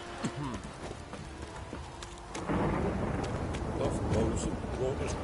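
Thunder and rain in The Witcher 3 game world, a low rumble swelling halfway through into a louder, steady wash of rainfall, with a voice and faint hoof clops in the first half.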